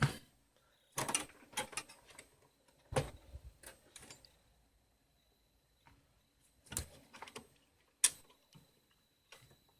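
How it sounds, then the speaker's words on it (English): Screws are being undone from a PC power supply unit, giving sporadic sharp metallic ticks and clicks in short clusters, close up and fairly quiet, separated by near silence. "so now the screws can come out"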